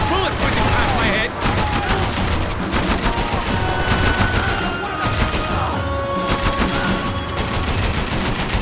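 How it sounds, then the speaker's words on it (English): Dense, continuous gunfire in Max Payne 3 carries a rapid machine-gun rattle, with repeated shots and bullets whizzing past. Voices can be heard speaking under the steady barrage. "I can't concentrate with bullets whizzing past my head!"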